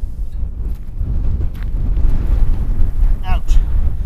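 Wind blowing across rocky ground outdoors while a sleeping shelter is set up, buffeting the microphone with a continuous low rumble and gusty roar that swells slightly, with a few faint higher whistles.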